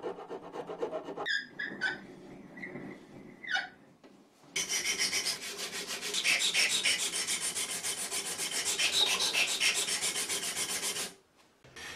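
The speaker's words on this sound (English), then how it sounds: "a relief cut near the guard made with a round file" Round file rasping a relief cut near the guard of a wooden knife blade, first short scraping strokes with pauses, then a long sustained run of steady rubbing that stops abruptly near the end.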